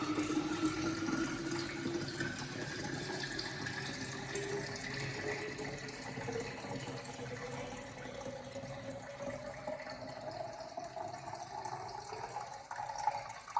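Lemonade is poured through a Thermomix basket into a pitcher, a faint continuous trickle of liquid with a slowly rising filling tone as the pitcher fills, no talk.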